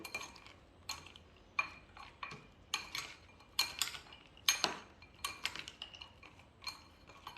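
A spoon clinks and scrapes against a bowl while spicy peanut masala is mixed, giving quiet, irregular metallic taps and stirring scrapes spaced a second or so apart.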